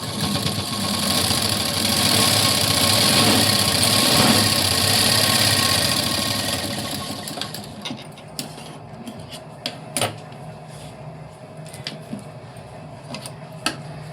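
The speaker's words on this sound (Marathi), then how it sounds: "आता इथे एक अशी डबल शिलाई देऊन घ्यायची." A sewing machine runs steadily for about seven seconds, sewing a double line of stitching along cord piping, then stops, leaving a few scattered clicks and taps of handling fabric in a quiet room.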